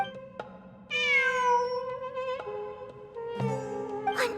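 A cat meows in the video game Genshin Impact, one long, clear, drawn-out call over a steady game music drone, followed by a shorter meow near the end.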